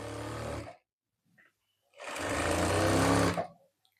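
A sewing machine runs two bursts of stitching along a dress seam, a loud steady whir of under a second, a pause, then a longer run of about a second and a half, with no talk.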